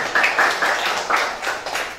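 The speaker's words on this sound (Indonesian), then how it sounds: "Tepuk tangan dong untuk kita semua" Students at a high school assembly in Central Jakarta clap together in a short, lively round, with some voices rising among the claps.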